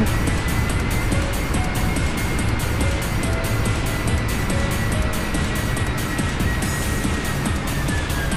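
An airliner in FSX/P3D running reverse thrust after landing, a steady loud roar of engine noise with a rushing, broadband wash that holds evenly for several seconds.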